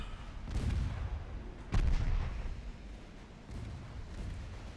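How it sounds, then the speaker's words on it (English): A torpedo salvo is launched in the naval video game Ultimate Admiral Dreadnoughts, giving deep booming thuds, with two heavy launch blasts followed by a rumbling low roar that fades gradually. "Lock torpedoes over there for the second salvo."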